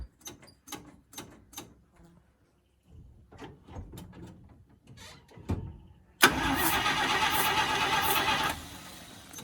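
A car engine cold-starts with no fuel pump sound heard, cranking with several uneven clicks and turnovers, then fires and settles into a loud, steady idle nearby.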